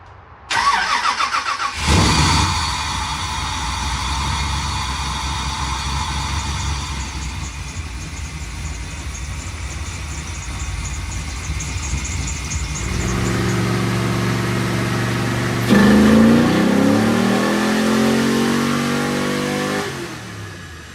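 A Chevrolet LS3 V8 revs hard through a dyno pull, a loud sustained engine roar climbing steadily in pitch for most of the stretch, then dropping to a lower drone and rising again near the end, with no talk.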